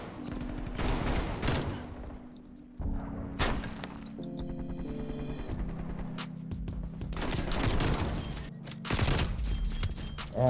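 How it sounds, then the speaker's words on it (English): Shotgun blasts in Black Ops Cold War, a handful of sharp, loud booming shots spaced irregularly with ringing tails and mechanical clatter between them. "Put away the shotgun, bro."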